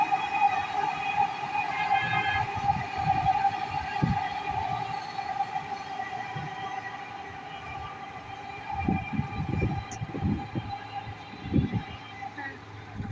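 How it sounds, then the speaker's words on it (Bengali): A low rumbling metro train runs steadily past at moderate distance in Mirpur 10, Dhaka, heard from a tenth-floor height, with a sustained tonal hum and a person talking intermittently over it. "ওই দেখুন মেট্রো রেল মেট্রো রেল যাইতেছে একদম বাসার কাছে"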